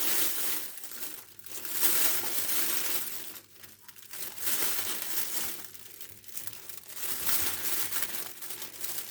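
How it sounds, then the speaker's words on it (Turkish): Plastic oven bag crinkling and rustling up close as chicken drumsticks are placed inside, with steady crackly handling noise throughout. "Fırın poşetimin şöyle içine ilk olarak bagetlerimi yerleştiriyorum."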